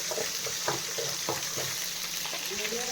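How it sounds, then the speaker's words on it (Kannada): Green chillies fry softly in oil in a pan for garlic rice, with a low sizzle and several stirring scrapes close by. "ಮೆಣಸಿನ್ಕಾಯಿ ಹಾಕ್ಕೋತಾ ಇದ್ದೀನಿ, ಸ್ವಲ್ಪ ಫ್ರೈ ಆಗಿ."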